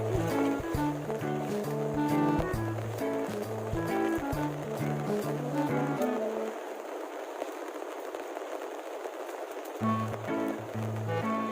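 A steady broadband rush of a river current swollen by overnight rain fills the scene, with loud music layered over it for most of the time.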